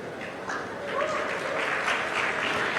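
A large audience breaks into applause that swells after the first second and holds as a dense, steady roar of clapping, with a voice briefly heard near the start.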